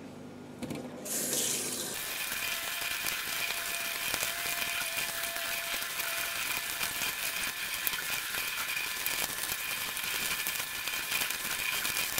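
Tap water runs steadily into a sink while tie-dyed fabric is rinsed out, a constant close rush of water after a brief handling noise at the start, with no voices.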